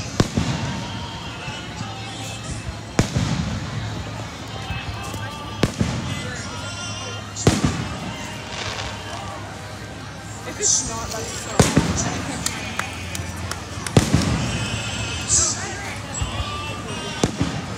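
Fourth of July fireworks bursting in a series of loud, sharp bangs every few seconds, with crackling between blasts and people talking nearby throughout.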